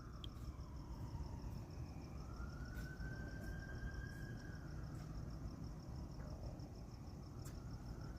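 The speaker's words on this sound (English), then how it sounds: "See what these sirens all about. Sounds like a police car" A police car siren wails at a distance with slow rising and falling sweeps, faint behind a steady outdoor rumble and a high repeating insect-like pulse, heard on a street near a shooting scene in Huntington Beach.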